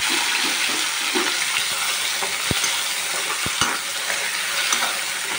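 Green chillies, onion and tomato being stirred as they fry in a pan for upma, a steady close sizzle with scraping stir sounds and a few sharp clicks of the spoon against the pan.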